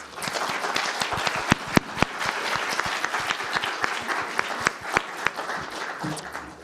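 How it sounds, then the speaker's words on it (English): Audience applause for the panelists at a global technical and vocational education forum, a dense steady wash of many hands clapping with a few sharper nearby claps, continuing for several seconds and fading at the end. "this is the right moment for a big round of applause for our panelists"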